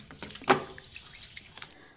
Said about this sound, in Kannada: ಅಕ್ಕಿಗೆ ಈಗ ನೀರು ಹಾಕಿ ಚೆನ್ನಾಗಿ ತಿಕ್ಕಿ ತಿಕ್ಕಿ ತೊಳೆಯೋಣ